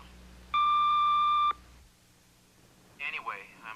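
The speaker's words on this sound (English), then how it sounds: "leave a message at the sound of the tone" An answering machine's steady electronic beep tone sounds once for about a second, clear and alone, then a short pause before a voice begins speaking.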